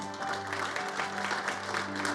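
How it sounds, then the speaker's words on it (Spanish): A crowd at a Christian church service claps steadily, dense and continuous applause filling the room for a couple of seconds. "Denle un aplauso a Cristo porque Él es bueno."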